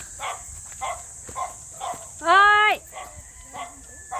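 A single short dog yelp, high and whining, rising out of quiet chatter, with people talking briefly before and after.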